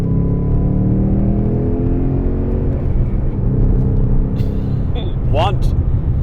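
A Ford Mustang Bullitt V8 drives along with a loud, steady engine rumble and rising revs close by, and a voice speaks over it briefly near the end.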